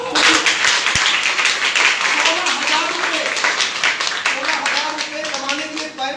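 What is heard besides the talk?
loud clapping by audience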